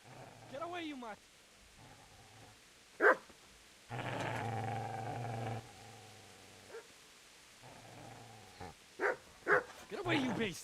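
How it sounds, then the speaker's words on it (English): A dog barks and growls in the video game Kingdom Come: Deliverance: a few sharp barks and a sustained snarling growl at moderate distance, alternating with someone talking. "Where's that barking coming from?"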